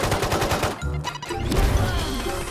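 Gunfire in the Valorant shooter game: rapid bursts of loud, close shots with a brief crash and lull before more firing resumes.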